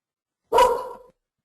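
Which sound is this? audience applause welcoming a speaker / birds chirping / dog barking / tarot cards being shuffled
dog barking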